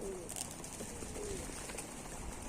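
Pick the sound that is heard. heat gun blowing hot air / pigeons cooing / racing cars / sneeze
pigeons cooing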